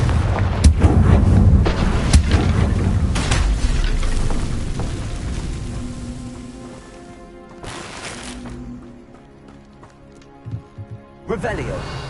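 Confringo explosion spell blasts in Hogwarts Legacy on PS5, with loud booming fiery bursts and rumbling impacts filling the first half, then fading into a quieter ringing tail with a few sharp hits near the end; spoken words are heard around it.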